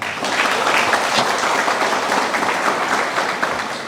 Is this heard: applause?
yes